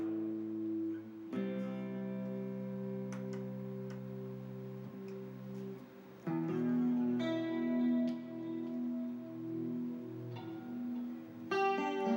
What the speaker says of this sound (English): The tone of the guitar, more electronic.